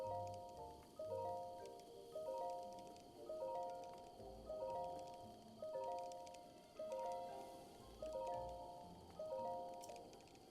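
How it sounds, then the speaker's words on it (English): Rain falls in a video game as a steady soft hiss, largely masked by a looping melodic game tune that repeats every second or so. "Wait, no, it's fake raining."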